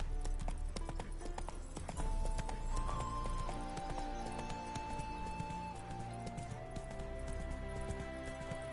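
Roach the horse galloping in The Witcher 3, a steady rapid clip-clop of hooves running continuously over layered game music and ambience, with no speech over it.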